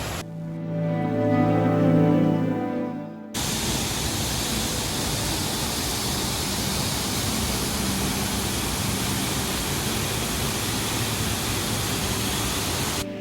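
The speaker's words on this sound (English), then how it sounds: "You can already hear the sound of the water before you even see it." Glencar waterfall in County Sligo, Ireland, a steady loud broadband roar of falling water that starts abruptly a few seconds in and continues unbroken.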